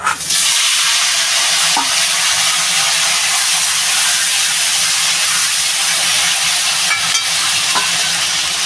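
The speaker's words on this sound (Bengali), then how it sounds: "এবার আমি যে আলু কলাটা ধুয়ে রেখেছি ঢেলে দেব" Potato and plantain pieces hit a hot pan of oil and fry with a loud, steady broadband sizzle that holds for the whole stretch, with a few faint knocks of stirring, no voices.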